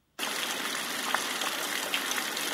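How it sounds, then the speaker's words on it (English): Heavy rain from a Dreamegg D3 Pro sound machine switches on abruptly, then holds as a steady dense hiss of falling water with faint droplet ticks, close and even, with no voices. "Rain. Heavy rain."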